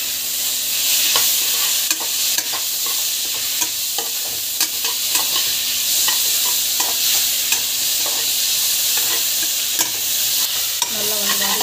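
Biryani masala and tomato sizzle and fry in a pan while a spoon stirs and scrapes in close, irregular strokes, with a louder scrape near the end.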